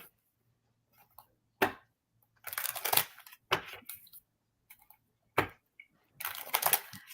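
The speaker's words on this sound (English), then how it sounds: "As I'm shuffling for you" Tarot cards are shuffled and riffled by hand in a quiet room, with brisk papery flurries and sharp snaps coming in irregular bursts, loud and close.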